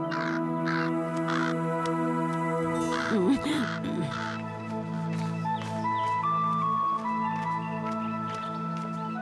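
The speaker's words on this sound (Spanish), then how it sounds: "Estaba ahuyentando a un cuervo." A crow caws repeatedly in an animated film, loud harsh calls over a dense, sustained orchestral music bed, with a brief voice-like burst in the middle.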